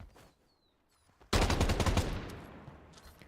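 A sudden burst of automatic gunfire in the competitive shooter Strinova during a tournament match, a player spraying to practice recoil, loud rapid shots then a fading tail, after a quiet start.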